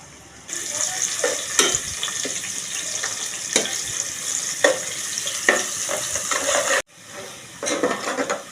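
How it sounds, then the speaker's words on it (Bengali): Chopped onions hit hot oil in a wok with a sudden loud sizzle that keeps crackling steadily, broken by scraping stirs and a brief clatter of the pan, close up and without talk. "এখন আমি পেঁয়াজ কাটা দিয়ে দেবো"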